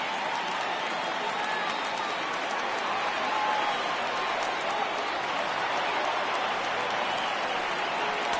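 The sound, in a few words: baseball stadium crowd cheering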